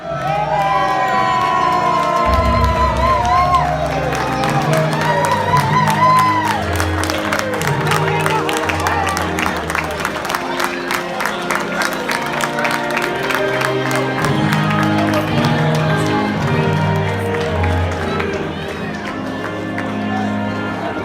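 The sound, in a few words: wrestling event crowd cheering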